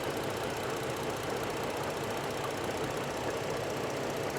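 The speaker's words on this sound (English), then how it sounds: "Nice little V6. It's not shaking at all." A GMC G20 van's V6 engine idles smoothly and steadily, a constant mid-range hum with a faint knocking texture running throughout, close by and without voices.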